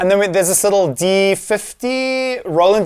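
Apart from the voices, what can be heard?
None of the usual background noises is heard.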